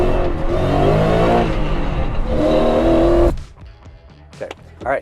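A 1968 Ford F100 pickup revs hard and accelerates up close, its engine climbing through loud surges before cutting off abruptly, followed by quieter mechanical clicks and knocks.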